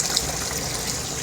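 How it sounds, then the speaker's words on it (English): Rinse water gushing out of a washing machine in an off-grid desert laundry setup, a continuous loud rushing pour with no talk. "Okay, rinse water coming out."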